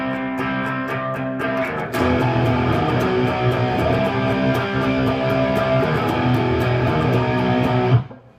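Distorted electric guitar strums the chorus of a song, dense and loud with sustained chords, fuller after the first two seconds, ringing steadily before cutting off near the end, with no voices.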